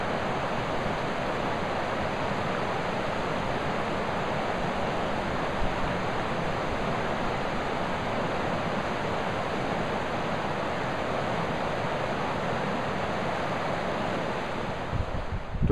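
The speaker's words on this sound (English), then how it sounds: "a clip of just the river running and the sounds of the river" A river rushing through a mountain valley near 7,000 feet among pines, a steady broad wash of flowing water, constant and even, with no voices.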